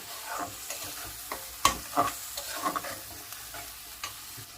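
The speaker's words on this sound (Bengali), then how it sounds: "এই সমস্ত মশলাটা আমি গ্যাসের ফ্লেমটা কমিয়ে খুব সুন্দরভাবে কষিয়ে নেব যতক্ষণ না তেল ছেড়ে আসে।" Ground spices sauté in oil over a low gas flame for a Bengali rohu fish egg curry, a soft sizzle broken by spoon stirs and scraping clinks against the pan.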